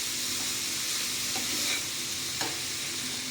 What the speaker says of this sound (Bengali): ভালো করে এগুলোকে একসাথে একটু আমি নেড়ে দেবো।